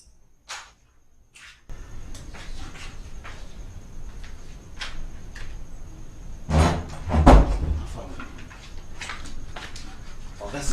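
A door opening indoors in a guest house during a tense confrontation scene in a Nigerian action film: a sharp creak and clunk partway through, amid scattered knocks and shuffles over a faint steady hum.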